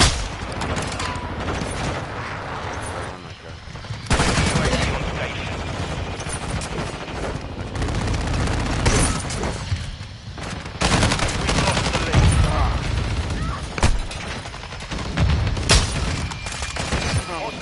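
Dense gunfire from Modern Warfare 2, with rapid bursts and sharp shots overlapping throughout, loud and close, alongside in-game shouting voices.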